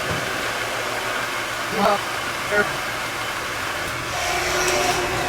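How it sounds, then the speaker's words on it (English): Heat gun blowing on a graphics decal being applied to a KTM 125XC motorcycle, a steady loud airy whoosh running throughout with a few faint clicks and handling noises. "then we come back with the heat gun and start working it on"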